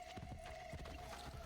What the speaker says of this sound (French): Il est où mon cheval? Je vais appeler mon cheval.